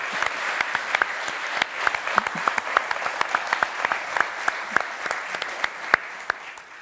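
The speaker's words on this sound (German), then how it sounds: "Einen großen Applaus bitte" Studio audience applauding on a German sports entertainment show, a dense, steady clapping crowd that is loud and close, with sharp individual claps standing out over the full length and easing slightly toward the end.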